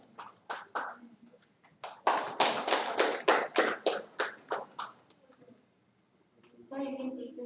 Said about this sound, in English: Please give a huge round of applause for Dr.